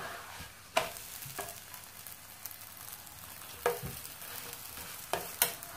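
Rfissa flatbread sizzles on a hot plancha, a steady close frying hiss with a few sharp crackles and taps scattered through, no talking.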